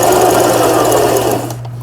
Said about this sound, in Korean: 박음질이 아주 부드럽게 나오는 거 보니까